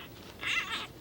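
A tiny, kitten-sized giant panda cub gives one short, high, squealing call, faint and alone against a quiet background.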